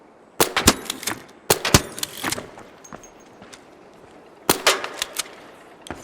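Rapid bursts of automatic gunfire from a video game played on a gaming PC, three loud clusters of sharp shots separated by quieter gaps.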